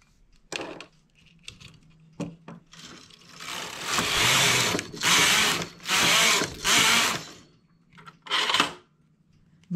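The carriage of a knitting machine is pushed across the needle bed to knit rows of a child's crossover jacket, a series of loud rasping, whirring sweeps of about a second each, separated by pauses and clicks.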